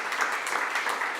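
An audience at an out-of-home advertising awards event applauds a campaign, with a brief, even wash of clapping.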